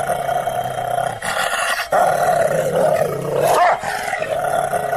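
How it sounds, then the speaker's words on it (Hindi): A dog barks and growls loudly and roughly in several harsh bursts, very close. "वो बस भौंकता रहा"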